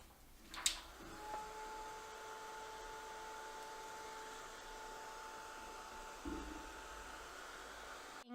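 A heat tool used for heat embossing a card blows with a faint, steady hiss and hum after a brief click near the start, with another small knock about six seconds in; no voices.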